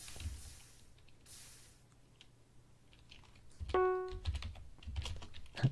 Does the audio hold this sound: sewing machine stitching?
no